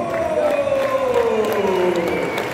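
A crowd at the 24 Hours of Le Mans applauds and cheers Cadillac's pole position, a loud wash of clapping and whoops beneath a tonal whine that slides down in pitch, with voices mixed in.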